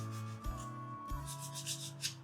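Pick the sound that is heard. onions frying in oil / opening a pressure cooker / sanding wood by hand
sanding wood by hand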